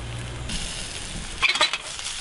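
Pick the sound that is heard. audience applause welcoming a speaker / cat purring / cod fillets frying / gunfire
cod fillets frying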